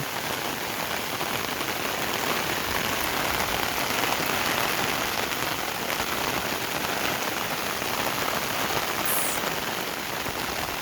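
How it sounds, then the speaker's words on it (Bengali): Steady rain patters continuously on surfaces beside a village wetland, an even dense hiss of drops with no pauses, moderately loud and close. "বৃষ্টির টাপুর টুপুর আওয়াজ এই আওয়াজটা শুনতে খুবই ভালো লাগে"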